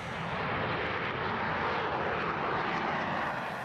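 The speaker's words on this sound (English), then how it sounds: "the ground crew and air traffic control start guiding the plane through the runway, where the pilots will take off" A B-2 stealth bomber taking off from a runway gives a steady, loud, broadband jet roar that holds evenly throughout, with no voices over it.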